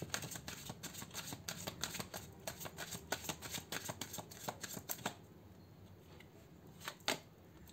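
Tarot cards are picked and handled close by, giving a run of quick, soft papery flicks and taps that grow sparser, with a couple of isolated snaps near the end.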